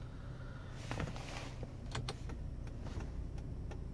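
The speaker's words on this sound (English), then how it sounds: "Power seats work." Quiet whirring of the power seat motor in a 2002 Lexus ES300, with small clicks and a few sharp ticks as the seat adjusts, close and faint, with no talk.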